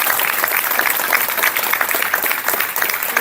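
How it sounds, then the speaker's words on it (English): Dense, sustained applause from a crowd at a university alumni reunion, loud and continuous for several seconds with no pause. "Let's give them a round of applause."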